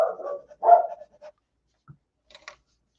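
A dog barks at someone outside: a few loud, close barks in the first second, then a couple of fainter yips and short sounds with silence between.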